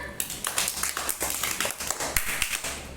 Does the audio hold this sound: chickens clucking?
no